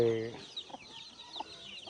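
Chickens of mixed native and fighting-cock stock cluck softly around feed on a small farm in Tanay, with a few brief calls over a quiet outdoor background.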